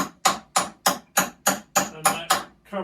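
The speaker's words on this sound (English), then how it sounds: "hold that little pin in place, and then I can tap it in with a hammer." A small upholstery pin being tapped in with a hammer on an accent chair with webbing: nine quick, sharp taps in a steady rhythm, close and crisp, with no talk.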